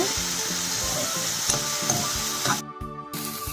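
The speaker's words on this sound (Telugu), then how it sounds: "ఇలాగా బాగా ఎర్రగా పచ్చివాసన పోయేదాకా వేయించుకోవాలి" Pieces of chamadumpa (taro) frying in a pan, giving a steady, dense sizzle with occasional stirring scrapes and a brief drop-out near the end.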